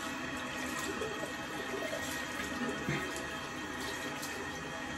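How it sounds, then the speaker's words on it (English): Tap water running over a Merkur safety razor as it is rinsed in a sink, a steady faint splashing stream with small gurgles and clinks, fairly quiet and close. "let me just rinse this off now"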